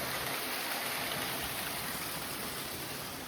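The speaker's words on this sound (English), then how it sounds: "This looks a reasonable water source." A mountain stream at a trail water source in the Vosges rushes steadily nearby, a broad, unbroken hiss of flowing water with no voices.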